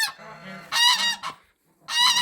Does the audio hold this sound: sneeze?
no